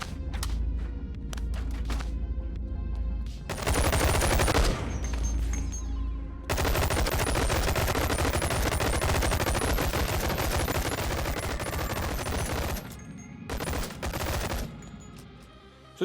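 Rapid, sustained automatic gunfire from several linked weapons firing at once in the VR game Bonelab, loud bursts with short gaps and a long continuous volley in the middle, with no talk.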